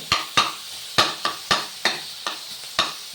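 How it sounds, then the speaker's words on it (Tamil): Tomato sautéing in a pan for a Maggi noodle biriyani is stirred briskly, with about eight sharp spoon scrapes and knocks at a fast uneven rhythm over a faint sizzle. "ஒரு தக்காளி, நான் வீடியோக்காக உங்களுக்கு ஸ்பீடாக காட்டுறேன். நல்லா வதங்கணும்."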